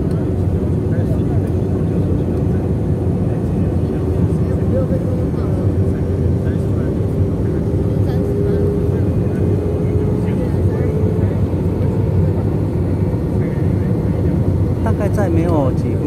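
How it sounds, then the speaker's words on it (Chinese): Steady, loud airliner cabin roar aboard a China Eastern flight descending toward Nanchang Changbei Airport, a constant low engine drone filling the whole stretch, with a voice talking over it. "在飞机即将降落江西南昌的昌北机场，可以看到飞机的高度已经越来越低"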